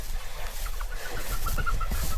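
Chickens and young chicks on a farm cluck and peep in a steady scattered chatter, fairly close, with soft chirps repeating over low background noise.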